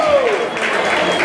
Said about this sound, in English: Please give a warm round of applause for Kimon Freeman